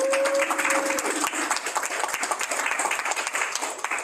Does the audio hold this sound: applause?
yes